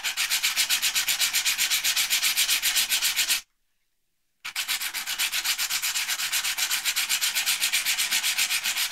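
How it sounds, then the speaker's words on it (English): Wet sandpaper rubbed back and forth over the metal heat spreader of an Intel i7 CPU, a steady rhythmic scraping with regular strokes, close and loud, broken by a one-second pause midway. "And now we start lapping."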